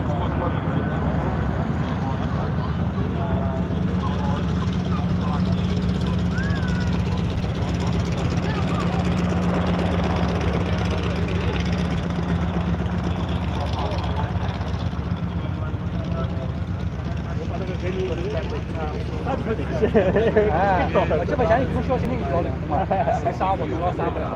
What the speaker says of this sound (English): listen to this, beach 18 taxiing past